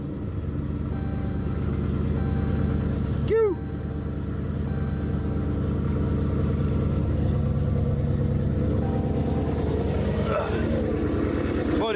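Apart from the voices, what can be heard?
Dodge Charger Scat Pack 392 starting, Corsa exhaust idling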